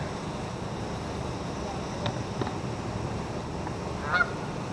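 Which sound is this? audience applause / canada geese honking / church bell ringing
canada geese honking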